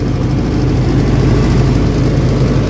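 A Lovol 40 kVA diesel generator runs close by with a loud, steady low drone that holds unbroken throughout.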